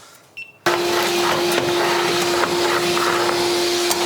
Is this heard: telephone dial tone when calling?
no